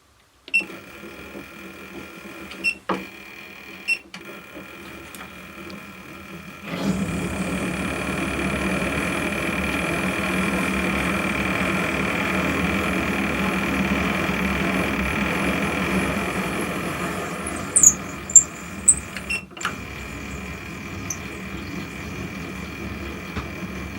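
An M12 left-hand thread being tapped in a casting by machine, with a few sharp clicks, then a steady motor drone lasting most of the clip and ending in more clicks and knocks.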